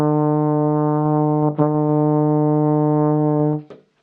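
Brass instrument playing the beginner exercise "A Breath of Fresh Air": two long, steady sustained tones with a brief break between them, loud and close, with no talking.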